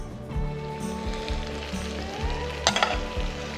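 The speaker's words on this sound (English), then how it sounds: "You need to fry beetroot and shallot just for a minute." Beetroot and shallot sizzle steadily in a frying pan, a loud continuous frying hiss with occasional stirring scrapes and a brief sharper crackle near the end, no talking.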